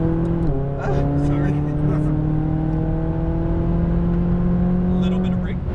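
A McLaren 570S accelerates hard on a race track, its engine note climbing in steady pitch through a long pull after a brief dip, loud and close throughout.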